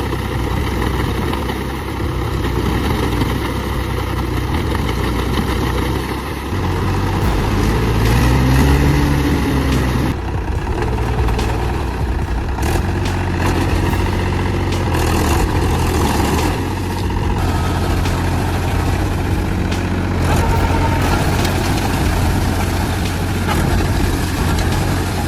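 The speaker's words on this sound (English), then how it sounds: "Two giant tractors roared, churning up mud." Two giant tractors run in mud with a continuous low, heavy engine drone that stays loud and steady and rises in load now and then, with no talk.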